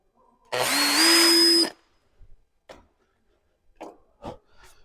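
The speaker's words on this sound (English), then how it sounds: "then I pilot the first hole" Power drill boring a pilot hole while fitting a roof spoiler on a Mercedes A-Class AMG, one close whirring burst lasting about a second, then a few soft taps and handling sounds.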